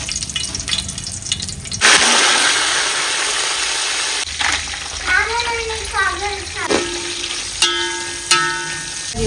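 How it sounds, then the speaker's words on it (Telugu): Water poured into rice in a cooking pot for village-style bagara rice makes a loud rushing, sizzling burst near the start, then fades. Someone talks over cooking noise afterward. "గ్లాస్ బియ్యానికి గ్లాస్న్నర వాటర్ పోసుకోవాలి"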